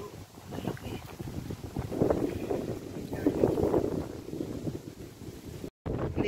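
Strong wind buffets the microphone in a steady, heavy rumble, with faint water and boat sounds underneath and a brief cutout near the end.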